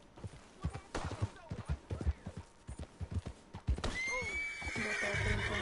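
A horse in Red Dead Redemption 2 pounds along in rhythmic galloping hoofbeats, then lets out a loud, drawn-out whinny, with faint game sounds beneath.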